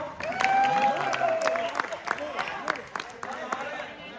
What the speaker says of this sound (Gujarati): કરમુરભાઈ માટે જોરદાર તાળીઓ